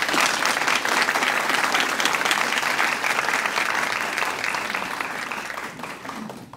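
An audience at an environmental research symposium claps for the finalists in a loud, dense, continuous burst of applause that gradually tapers off toward the end.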